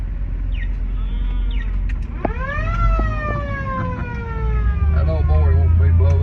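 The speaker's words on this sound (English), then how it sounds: "That old boy wants me to blow that siren every time he sees me." A police squad car siren on a Mount Airy, North Carolina street tour, with short whoops followed by a rising and falling wail, loud and near over steady engine and road noise.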